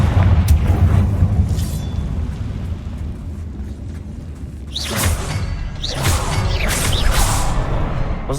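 A Confringo fire spell in Hogwarts Legacy sets off booming explosions with whooshing bursts, a heavy low rumble followed by several loud blasts in quick succession.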